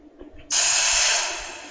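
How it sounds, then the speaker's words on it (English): In the horror game Dungeon Nightmares, steam bursts out with a sudden loud hiss that holds steady for over a second, then slowly fades, after a moment of quiet rustling. "I got freaking scared by steam."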